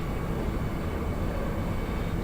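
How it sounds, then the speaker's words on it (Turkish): A train departs in the Final Fantasy VIII video game: a steady, heavy rumble holds at an even level throughout, with no breaks and no talking. "Derken trenimiz kalkıyor."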